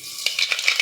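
Mustard seeds splutter and pop in hot coconut oil in a pan, a dense close sizzle with several quick crackling bursts over a brief moment, no talking.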